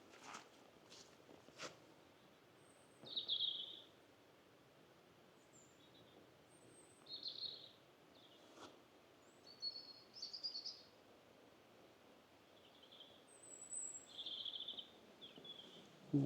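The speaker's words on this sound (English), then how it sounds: "The birds are singing." Birds sing in a quiet wooded valley near a river by old gunpowder works, scattered high chirps and short song phrases repeating at intervals, faint and somewhat distant over a hushed background with a few soft footstep-like knocks.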